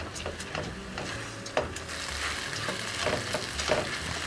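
Risotto rice and wine sizzle dry in a pot for risotto milanese, a close crackling fry broken by scraping stirs and small clinks.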